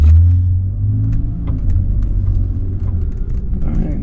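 A car pulls away towing a 600 lb motorcycle carrier, a loud close engine rumble swelling at the start and then holding as a steady low drone with some rattling, while a voice talks briefly over it.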